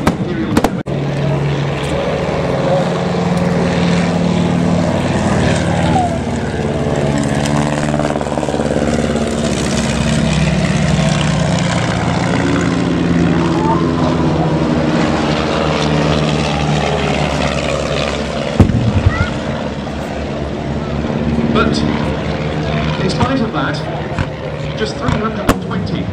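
A WWI Fokker DR-1 triplane flies at an air display, its propeller engine droning loud and steady with a rising and falling pitch as it passes, under someone commentator's voice.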